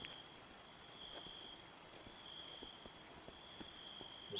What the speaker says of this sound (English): This rain is bad.